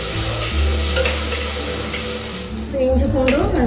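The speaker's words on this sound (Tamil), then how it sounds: "இஞ்சி பூண்டும் நல்லா வந்து வதங்கிடுச்சு." Ginger garlic paste sautés in a pan for village-style mutton kulambu. The hot oil sizzles and crackles steadily, with the soft scrape of stirring, close and fairly loud throughout.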